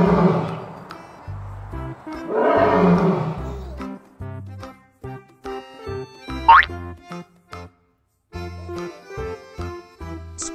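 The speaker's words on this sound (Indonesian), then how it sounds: "Singa." Two loud, rough lion roars sound one after another, followed by a string of short electronic toy-like tones and boings.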